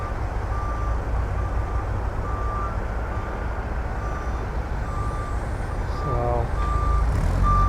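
A flatbed truck unloading new fencing at night outside the White House near Lafayette Park gives steady, evenly spaced reversing beeps over a constant loud engine rumble, with the engine swelling briefly near the end.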